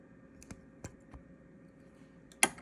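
Thread snips as top and bobbin threads are cut on a longarm quilting machine: a few soft, light clicks, then one sharp, louder snip near the end, over a quiet background hum with no talking.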